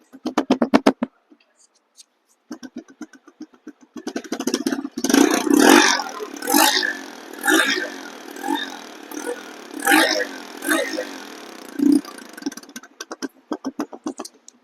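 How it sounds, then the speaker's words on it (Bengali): A TVS Metro Plus 110cc motorcycle in showroom condition idles with a rapid, even putter. It is clear at first and then partly covered by someone talking in the middle of the clip. "এখন আমি এই বাইকটির সাউন্ড শুনবেন স্টার্ট অবস্থায় সাউন্ড কেমন হয়"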